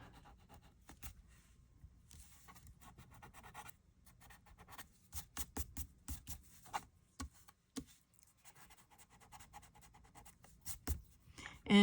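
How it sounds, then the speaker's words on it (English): Pencil marks are rubbed off a paper card with an eraser in irregular bursts of soft scratchy scrubbing, close and faint, with brief pauses between strokes. "now I'm going to use an eraser. And I'm just going to erase those marks."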